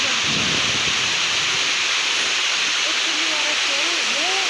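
A village waterfall spills down through trees into a pond below, a steady, dense rushing roar heard close, with faint birdsong chirps rising in the background.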